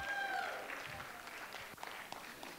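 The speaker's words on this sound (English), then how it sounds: "I thought I'd at least get a couple cheers for our Cleveland Browns." An audience at a town hall meeting claps in a dense, sustained patter of applause with a few scattered louder claps, moderately loud and close.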